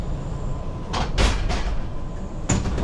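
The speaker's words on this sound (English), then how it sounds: "here is my 6-car train arriving from the Hiroshima area" A six-car JR West local train pulls into a station on the rural Geibi Line near Hiroshima, giving steady rumbling wheel and rail noise with a few sharp hissing, clattering bursts partway through and near the end.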